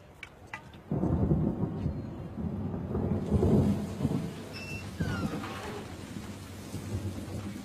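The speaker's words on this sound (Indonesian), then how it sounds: "Kan hujan." A thunderstorm rumbles with low, rolling thunder over steady rain, the downpour swelling after the first second and continuing throughout, with a few faint high chirps above.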